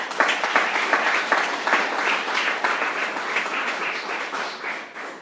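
Church congregation applauding, a steady close burst of many clapping hands with a few sharper claps at the start, continuing evenly for several seconds.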